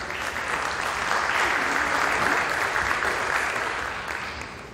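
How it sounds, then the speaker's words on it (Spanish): Dense, sustained applause from a conference audience on natural gas welcoming a speaker, a steady wash of many hands that swells slightly and then eases. "Les pido un aplauso para recibir a Jairo de Castro."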